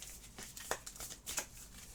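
Playing cards being shuffled for the Astro Knights: Eternity board game, a quiet, brief papery riffle with a couple of soft snaps, close and faint.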